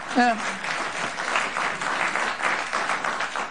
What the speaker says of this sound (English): I would say hold your applause, but I know it's hard